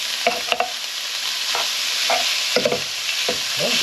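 Pork and kimchi fried rice sizzling in a pan while a small chopping gadget breaks it up and stirs it, with scattered scraping clicks over a continuous loud frying hiss.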